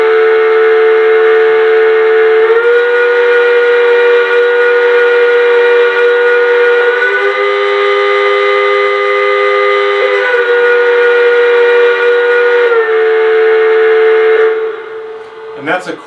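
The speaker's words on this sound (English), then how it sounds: "So the whistle on these locomotives is fantastic." A steady, loud, multi-tone chime whistle from a Mohawk L-2a model locomotive, sounding as one long continuous blast with slight pitch shifts before cutting off near the end.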